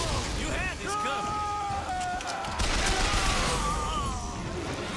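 Shotgun blasts ring out during combat in the video game BioShock Infinite, with booming shots and bursts over tonal game sounds while a player talks excitedly over the action.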